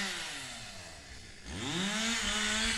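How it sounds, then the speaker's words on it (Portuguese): A chainsaw cuts wood some distance away near a farm plot, its engine note rising and falling, dipping briefly and then revving back up to a steady whine. "Tá bem acolá o rapaz cortando de motosserra"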